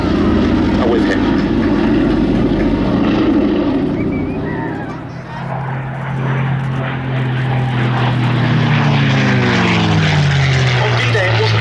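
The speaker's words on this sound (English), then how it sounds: "On D-Day, it wasn't just the US Army Air Forces that flew Mustangs, the RAF flew them as well, and not the Packard Merlin engine versions we see here" A P-51 Mustang with a Packard Merlin engine flies past at the 2024 D-Day 80th anniversary air display at Duxford, its loud propeller drone swelling and then sliding downward in pitch as it passes close by.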